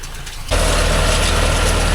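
A John Deere 5105 tractor engine running at the baler, quieter at first, then jumping into a loud, steady, heavy diesel throb that holds to the end.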